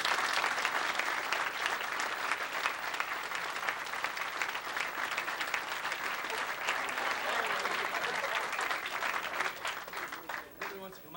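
An audience bursts into sustained, dense applause at a live demonstration event, staying loud throughout and tapering off at the very end, with voices mixed into the clapping.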